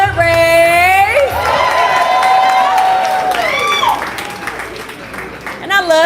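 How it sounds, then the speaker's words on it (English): Applause and cheering from an audience at a live poetry event in Chicago, with whoops and shouted voices rising over steady clapping and a voice talking through it before the crowd noise eases toward the end. "Y'all clap it up again for Hood Race"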